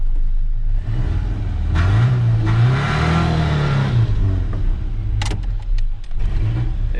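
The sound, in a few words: car engine revving as the car tries to move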